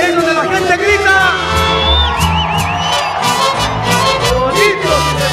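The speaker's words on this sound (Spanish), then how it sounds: "Y ahí es donde la gente grita." A festival concert crowd shouting and whooping over loud live music, with rising yells and cheers layered on a steady band sound throughout.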